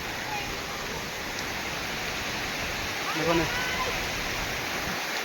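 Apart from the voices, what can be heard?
water overflowing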